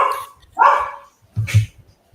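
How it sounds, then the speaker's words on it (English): Indoor dog barking close by, a few sharp barks in quick succession followed by a softer low yip, loud with no talking over it. "And my dog just wants to keep barking."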